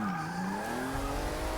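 Car tires squeal in long, wavering tones during a drift in the racing game Forza Motorsport 6. The loud skid sweeps up in pitch over a steady engine drone, with no talking.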